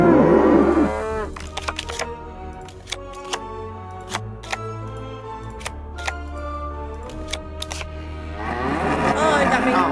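A cow moos in the video game Nancy Drew: The Captive Curse, a low sustained call rising at the start and again near the end, with sharp clicking sounds scattered through the quiet middle.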